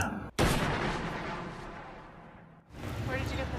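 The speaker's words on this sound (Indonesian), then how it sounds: "tembakan terakhir terdengar di atas air" A loud, sharp gunshot in the film Dawn of the Dead (2004) cracks over water near the start and leaves a long, rumbling echo that slowly dies away, then a second burst of noise follows.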